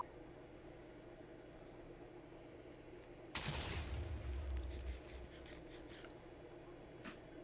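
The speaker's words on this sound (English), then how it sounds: "What's up with all these explosions I'm hearing?" A single loud explosion in the video game Minecraft bursts out of a quiet hiss, its rumble fading over about a second and a half with faint crackles trailing after.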